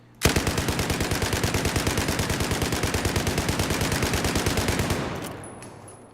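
A U-100 MK5 light machine gun in Battlefield 4 fires one long fully automatic burst of rapid, evenly spaced loud shots for about five seconds, then stops and the sound fades away.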